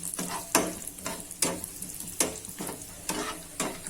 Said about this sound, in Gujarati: આ રીતના સરસ રોસ્ટ કરી લઈશું